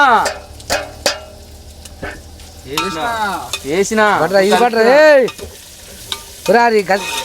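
Green chilies sizzle as they fry in a pot of chicken curry, with close stirring scrapes and bursts of crackle, while a voice sounds over the cooking.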